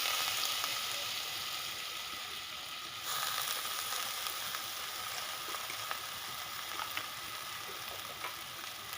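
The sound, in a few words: potatoes frying in oil in a wok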